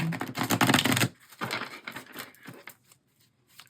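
Tarot cards being shuffled by hand, a dense burst of rapid papery riffling followed by shorter, softer flurries of card slaps that trail off into near silence.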